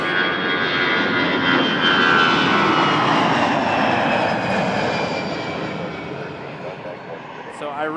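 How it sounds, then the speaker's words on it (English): Airplane engines roar loudly and steadily at Toronto Pearson Airport, a sustained jet rumble that slowly fades toward the end. "I was trying to see which way that plane was going."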